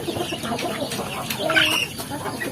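Free-range village chickens on a traditional farm clucking continuously at moderate distance, with a slightly louder cluck or squawk rising midway through the short stretch; no talking.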